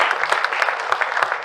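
Audience clapping at a book launch for a volume on rebirth and reincarnation, a dense, steady applause from a crowd that carries on without a break.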